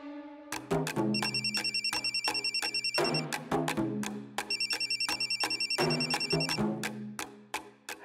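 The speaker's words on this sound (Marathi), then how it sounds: "रे मोन्या फोन घे ना." A phone ringtone plays a loud, close, repeating electronic melody with rapid chiming bursts, carrying on for the whole clip with no talking over it.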